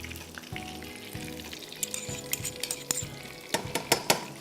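Chopped garlic frying in butter and oil in a pan, a steady sizzle with stirring clinks and scrapes of utensils against the pan, close and busy throughout.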